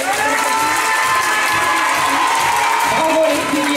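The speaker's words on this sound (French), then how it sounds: "Donc on peut les applaudir une dernière fois." An audience at a gala applauds synchronized swimmers, with dense continuous clapping and crowd cheering mixed with a tonal background, under scattered voices, holding steady throughout.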